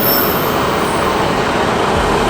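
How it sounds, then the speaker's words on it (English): A train at a railway station early in the morning fills the scene with a loud, steady rumble of rolling rail cars that runs unbroken from start to finish. "Why am I at a train station before 8 o'clock in the morning?"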